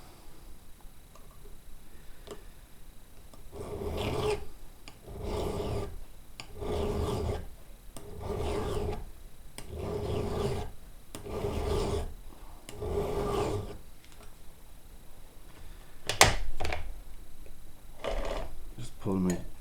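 A hand file sharpens a chainsaw chain with a series of close, rhythmic rasping strokes in steady bursts. A brief sharper knock follows near the end.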